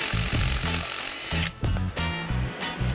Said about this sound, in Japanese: ピンの頭の部分だけちょっと え ー、ヤスリで削っておいてから作業を、えしたいと思います